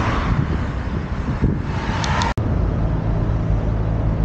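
Road traffic heard while riding a bike toward Duisburg Hochfeld, a steady roar of passing cars with wind buffeting the microphone and a sharp click midway.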